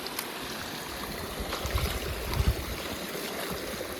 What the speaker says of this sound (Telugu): ఆ చెరువు నుంచి మొత్తం ఈ వాటర్ మొత్తం అంతా ఇంకా అలా పొలాలకు వెళ్తుంటుంది